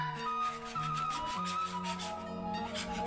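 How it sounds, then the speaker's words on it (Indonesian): Caramel sponge cake batter for mini honeycomb cakes stirred steadily in a bowl, a soft continuous rubbing and scraping under prominent tonal background music. "Ini diaduk-aduk biar gak ada yang menggerindil,"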